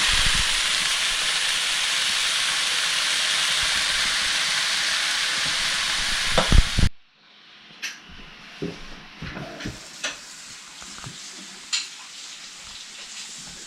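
Oyster mushrooms frying in a pan, a loud steady sizzle for about seven seconds that cuts off abruptly, then quiet clinks and small handling noises.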